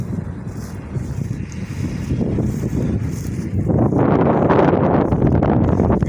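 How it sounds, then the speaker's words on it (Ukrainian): Wind blows steadily across the microphone outdoors over a wheat field, building into a louder, rougher rush of buffeting gusts in the second half. "Вітер гарний віє"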